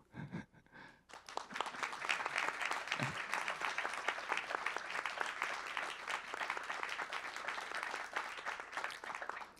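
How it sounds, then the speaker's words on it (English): After a short quiet opening, an audience at a lecture with the NATO Secretary General in Korea breaks into warm sustained applause for Ambassador Yun Sun Gu, steady many-handed clapping held at an even level to the end. "please give a a warm round of applause to uh, Ambassador Yun Sun Gu"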